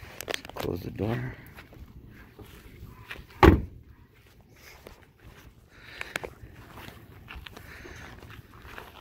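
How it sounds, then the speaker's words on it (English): A door shuts with one loud, sharp thud during work on painting and fitting a Z28 spoiler to a fifth-generation Camaro, amid soft shuffling and nearby talk. "Close the door."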